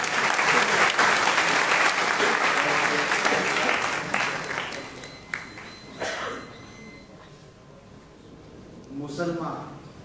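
A crowd at a Gujarati poetry gathering bursts into loud, sustained clapping that fades after a few seconds, leaving scattered claps, room murmur and voices speaking.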